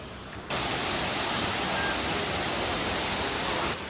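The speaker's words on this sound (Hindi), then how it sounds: "बेसिक सा वाटरफॉल है, इनको इन्होंने टूरिज्म बना के रख दिया है" Broadband rushing roar of a tourist waterfall on Grenada, steady and loud from start to finish after a brief quiet lead-in, with no talking over it.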